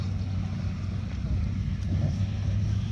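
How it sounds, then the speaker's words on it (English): British WWII Valentine tank engine running, a steady low rumbling drone with wind noise, continuous and fairly loud, with faint voices in the background. "This is the Valentine tank coming on now."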